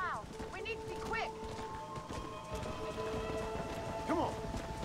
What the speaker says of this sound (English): I haven't seen a storm like this for a while.